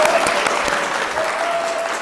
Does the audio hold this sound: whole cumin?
no